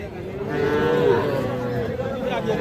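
A calf at a cattle market gives one long, drawn-out moo close by, rising and falling over a couple of seconds above a low murmur of the crowd.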